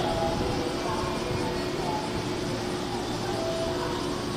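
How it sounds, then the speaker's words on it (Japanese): A JR Class 221 local train departs Shin-Osaka station, rumbling steadily at the platform, a low continuous drone with faint mechanical whine, fairly distant and muted. "大阪行き発車いたします列車から離れてください"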